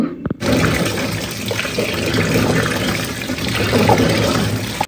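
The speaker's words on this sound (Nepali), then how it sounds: "लु अब चाहिँ यो बयरलाई मैले मजाले धुन्छु।" Jujube (bayar) fruits are washed in water, with a steady loud rush of running and splashing water that continues without a break and no one speaking.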